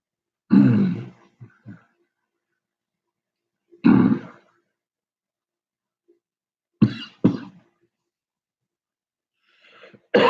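Harsh coughing after eating a Trinidad Scorpion pepper, several separate bursts of coughs and throat rasps spaced apart with near silence between, close and loud.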